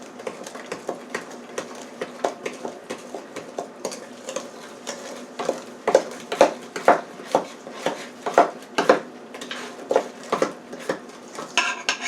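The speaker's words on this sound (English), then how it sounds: "now I'm going to mix this." Thick cornbread batter with buttermilk stirred in a bowl, heard as a steady series of close clicking, tapping spoon strokes against the bowl that grow a little stronger over time.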